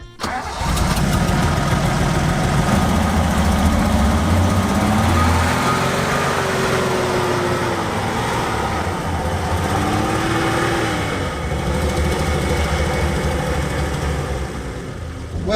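Kawasaki Mule engine roars at full throttle for a long stretch, straining to pull a buried Toyota Land Cruiser FJ40 on old tires, loud and close with rising and falling revs.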